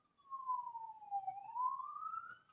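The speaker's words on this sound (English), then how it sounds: "That's not a police siren." A paramedic or fire truck siren wails alone at moderate distance, its tone sliding down then sweeping back up in one long smooth cycle.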